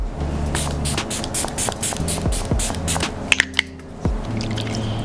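Short hissing sprays from a pump bottle of face serum sprayed onto skin, several quick puffs in a row with brief pauses, close and fairly soft, no voices.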